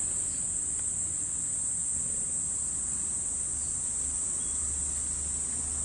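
Cicadas singing outdoors on a summer morning, a loud, unbroken high-pitched drone that holds steady throughout, with no talking over it.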